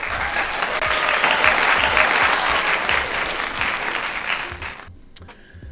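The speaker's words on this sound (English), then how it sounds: "I'm also going to give an applause for Rio and Hicks." A burst of audience applause at a book reading, many hands clapping in a dense, lively wash for about five seconds before cutting off abruptly into near silence.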